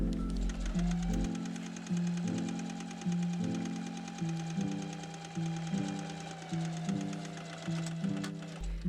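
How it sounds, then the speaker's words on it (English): A sewing machine stitches patchwork skirt pieces together end to end, running in a steady mechanical hum with rhythmic pulsing bursts of needle action, close and clear, with no voices. "I'm going to sew them together end to end and add a French seam."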